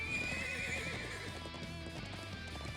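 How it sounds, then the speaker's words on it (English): Horses whinny and neigh in Trails of Cold Steel IV: a long high neigh rises near the start, then hooves clip-clop under a steady game soundtrack with no talk. "Wait. Horses?"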